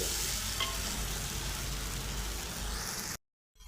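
Turmeric is stirred into a sizzling cowpea usal in the pan, making a dense, even frying hiss with faint scraping. It cuts off abruptly into silence near the end.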